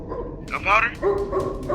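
A dog barks in a video game, a couple of short yapping barks close by, mixed with a voice.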